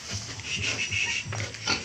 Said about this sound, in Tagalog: 3 baboy yan